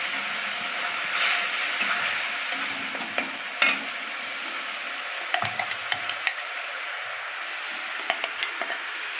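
Centella leaf chutney is stirred in a pan, giving steady scraping and soft sizzling with sharp clicks of the spoon against the metal, close and continuous with no talk.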